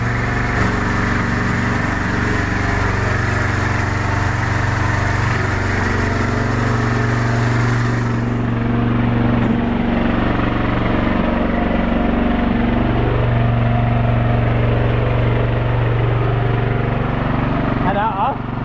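A small engine runs at a steady idle, loud and close, humming continuously with a slight shift in pitch partway through while people talk.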